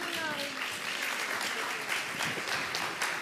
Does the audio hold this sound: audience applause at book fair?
yes